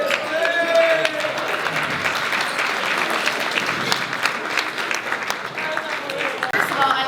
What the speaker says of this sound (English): Let's have a nice round of applause for Phil.